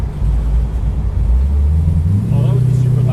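Loud historic race car rumbling past in a parade route at Lime Rock, its deep low engine roar swelling and shifting pitch close by, with people talking over it.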